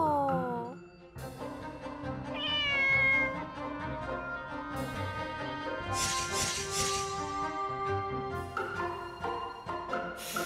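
A cat meows several times close by, each call drawn out and tonal, with pauses between them.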